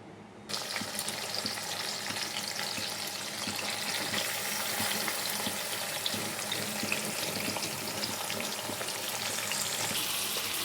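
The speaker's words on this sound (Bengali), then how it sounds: "মাছগুলো ভাজা হোক" Small chuno fish, rubbed with salt and turmeric, drop into hot oil in a kadai and fry with a loud, continuous crackling sizzle that begins after a brief silence and holds steady throughout.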